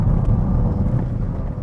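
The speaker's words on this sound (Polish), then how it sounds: "Jak przyjemnie się ten silnik wkręca na obroty" A Ford Puma's three-cylinder engine revs while driving in sport mode, a steady, loud low rumble with road and wind noise from inside the car.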